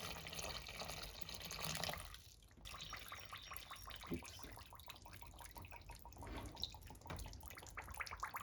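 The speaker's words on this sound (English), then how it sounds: "Then I add water." Water poured or running from a tap into a pottery glaze mix of weighed minerals, a steady splashing, trickling wash close by with a brief dip partway through, no talking.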